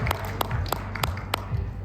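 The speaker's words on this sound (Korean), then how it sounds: "박수 부탁드립니다." Sparse, hesitant clapping from a conference audience at a blockchain event, a handful of separate claps spaced irregularly across two seconds, close and moderately loud over low room hum.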